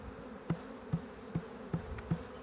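Bees at a small nucleus hive hum in a low, steady drone, with a soft pulse swelling about every half second, close up and with no voices.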